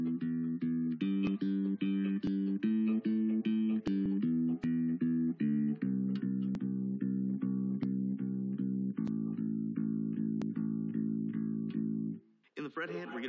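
Bass guitar playing a steady eighth-note exercise across three of its four strings, a clear repeating plucked line with note changes every couple of seconds, heard alone and close, stopping just before the end.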